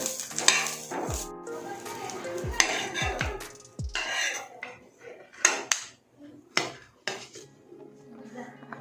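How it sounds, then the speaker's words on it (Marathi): Ground masala paste (vatan) frying in a pan for stuffed brinjal curry, a low sizzle broken by sharp metallic clanks and scrapes of a spoon against the pan, with pauses between bursts. "वाटण आपलं चांगलं फ्राय झालेलं आहे थोडं अजून आपण लालसर करून घेऊया"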